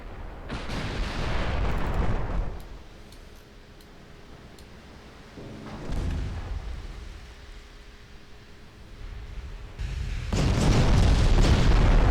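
Naval guns firing and shells exploding in a British classic campaign video game: heavy booming blasts at the start, a softer one near the middle and a sustained roar at the end, with a low rumble between them.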